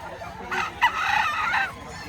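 A rooster crows once nearby, a rising and falling call lasting about a second over faint background noise.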